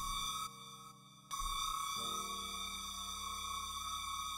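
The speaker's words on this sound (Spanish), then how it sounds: "Delay y reverb." A synthesized sound effect built in the Serum synthesizer with distortion, flanger, delay and reverb: a sustained, buzzy tonal drone with a dip and shift partway through, heard alone at low level.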